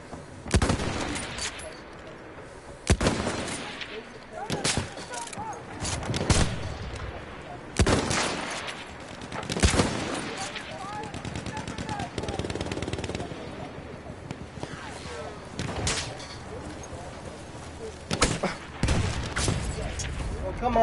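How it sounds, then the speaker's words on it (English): Enemy machine gun fire in the video game Battlefield 1: repeated bursts of gunfire and booms at varying distance throughout, with a voice talking over them much of the time. "That's an enemy machine gun!"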